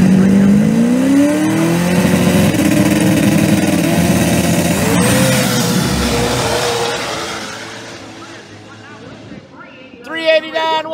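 A loud, high-powered Pro Mod drag racing car screams down the strip during qualifying, its pitch climbing through gears before fading into the distance; a voice speaks near the end.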